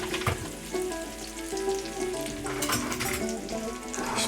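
Corn on the cob frying in butter in a hot pan, basted by spoon: a steady close sizzle with clinks and scraping of the spoon against the pan, no talking.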